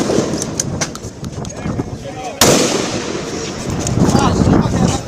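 Police gunfire aimed at student protesters in a street: sharp cracks and bursts, one very loud close shot midway, among a constant crowd roar with people shouting.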